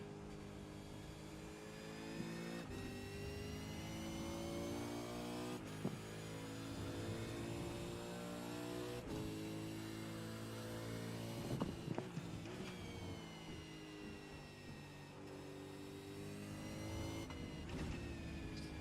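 A Skip Barber race car engine in the iRacing video game, whining steadily as it pulls through laps, with rising pitch sweeps on acceleration and sharp drops at each gear shift, continuous and loud with no talking.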